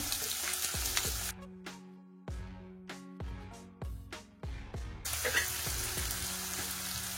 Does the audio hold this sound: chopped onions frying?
yes